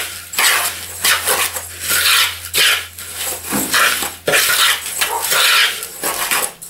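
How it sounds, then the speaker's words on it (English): A bowl and utensil clatter and scrape in rhythmic bursts as dry ingredients, including fine protein powder, are stirred together for protein bars, with a steady low hum underneath. "Then I mix the dry ingredients together as best I can."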